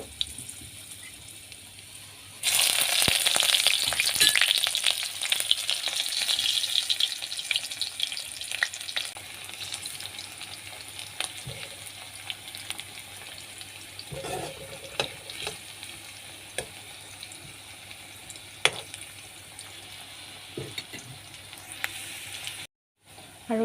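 Onions dropped into hot oil for a fish curry with cumin and red chillies burst into a loud, close sizzle that gradually settles into a steady fry, with occasional stirring clinks.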